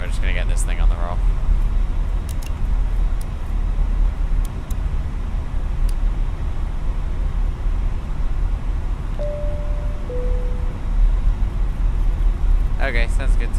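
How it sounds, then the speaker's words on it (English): Fenix A319 airliner on its takeoff roll in Microsoft Flight Simulator 2024, a steady loud low rumble of engines and runway noise throughout, with someone talking over it. "We're just gonna get this thing on the roll."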